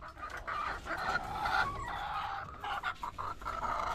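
Chickens clucking in their coop, several birds making steady, overlapping clucks and short calls at close range for a few seconds, with no talking.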